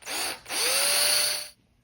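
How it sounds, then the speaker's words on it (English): A small high-quality drill boring a starter hole in metal while refurbishing a Black & Decker 8 gauge nibbler: two close whining bursts, the second longer with pitch rising, then abrupt stop. "take a teeny weeny drill, good high quality one"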